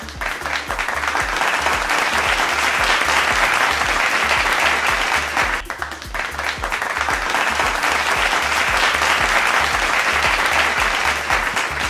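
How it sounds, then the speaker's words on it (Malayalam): A crowd claps steadily and loudly at an award ceremony at Lulu Mall in Kochi, the applause dipping briefly near the middle before swelling again until the end. "നല്ല കൈയടി"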